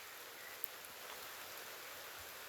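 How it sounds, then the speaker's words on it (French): Steady, gentle rain falling in an even hiss with scattered soft drops, quiet and continuous, no voices. "Il y a le bruit de la pluie."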